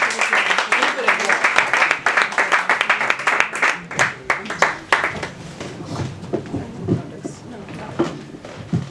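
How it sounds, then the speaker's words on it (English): Audience at an open mic comedy night applauding and clapping, loud at first and then thinning out over several seconds, with voices mixed in. "let's have a big round of applause for Arman Shah, everybody."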